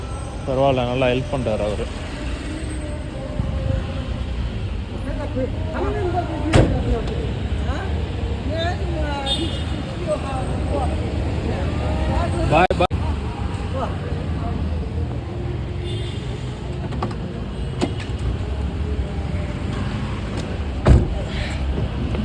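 Interior of a hired car on a ride in Meghalaya near Shillong, with a steady low road and engine rumble throughout, faint rattles and a few brief knocks, while passengers talk over it.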